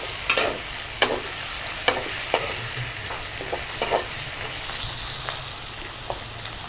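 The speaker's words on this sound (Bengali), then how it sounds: "আর একটু ভালো করে ভেজে নিতে হবে।" Tomato with mixed vegetables and a fish head frying in a pan, a steady sizzle under repeated spoon scrapes and clacks spaced roughly every second, close and moderately loud, no voices.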